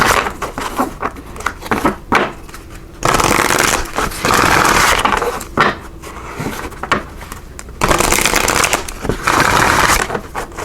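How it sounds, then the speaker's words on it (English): A numerology card deck is shuffled in repeated bursts of riffling and ruffling, loud and close, with short pauses between rounds and no talking. "we're also going to pull some cards here from the numerology deck"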